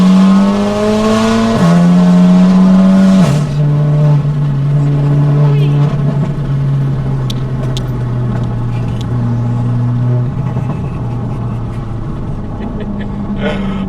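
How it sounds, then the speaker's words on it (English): A loud Volkswagen Golf R with a straight-through exhaust, about 500 bhp, revs hard and accelerates, its raspy exhaust note climbing and shifting through gears, with voices talking over it. "I'm kind of glad I got a straight through exhaust, because I'm warning people"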